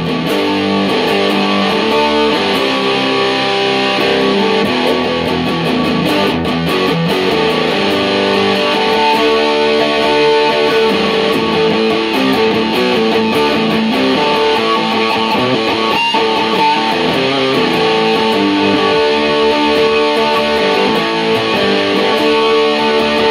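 A 1988 Heritage H-162 Super Strat electric guitar played through its bridge pickup with heavy distortion, loud rock riffing that runs continuously with no talking.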